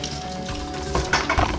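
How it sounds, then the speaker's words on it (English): Salmon cakes are dropped into hot oil in an electric skillet, a steady sizzle that swells with louder crackling bursts toward the end as each cake goes in. No one speaks. "listen to the sizzle."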